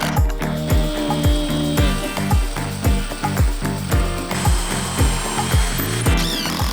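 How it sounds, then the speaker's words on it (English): A power drill bores holes in wood for a picnic bench, running in rapid, evenly repeated bursts, each a brief loud whir, close and clear with no talking. "A drill is a handy tool because it helps us make holes in the wood."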